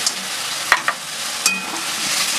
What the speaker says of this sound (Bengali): কাঁকড়াটা দিয়ে 1 মিনিট মতো কষিয়ে নেব